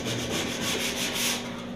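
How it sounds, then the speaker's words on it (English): Steady back-and-forth hand sanding of paint on a 1966 Ford Galaxie 500 convertible body, a rough rhythmic rasp close up, with a faint hum underneath and no talking. "I'm just going to plug away at sanding here."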